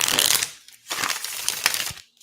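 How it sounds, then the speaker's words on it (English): A deck of tarot cards is riffle shuffled close up: a loud, crisp burst of rapid flicking as the cards fall together, a brief pause, then a second ripple and a final bridge-settle, with no talking. "Let's dare I try to riffle shuffle it."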